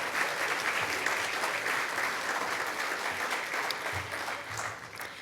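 Audience applause at an evening Scholarfest event, a dense, even roar of many hands clapping from a large crowd, heard alone and holding steady before easing slightly at the end.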